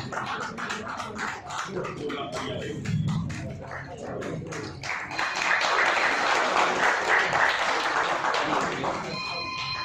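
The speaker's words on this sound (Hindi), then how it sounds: "प्लीज तालियां दीजिए।" A crowd at a community gathering applauds steadily for about ten seconds, a dense, continuous patter that swells slightly midway, with a few faint tonal beeps near the end.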